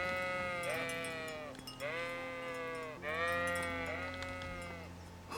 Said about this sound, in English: So we've got all the sheep over here